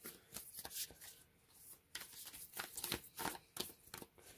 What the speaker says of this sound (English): They shuffle lovely.